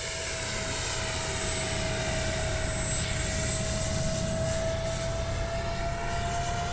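A Freewing 70mm F9F-5 Panther RC jet flies past, its electric ducted fan giving a steady, loud, unbroken whine and rushing roar with a high tonal line throughout, with no talking.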